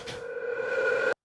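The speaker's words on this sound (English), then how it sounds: "And another riser created from the same preset that I showed you earlier." Synth riser built from a lead preset for a modern dark pop metal track: a single sustained, bright tone that holds steady and swells slightly for about a second before cutting off abruptly.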